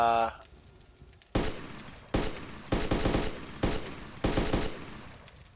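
Five heavy gunshots from a rifle in DayZ, spaced unevenly over several seconds, each a loud sharp crack with a long rumbling tail, alone without talk.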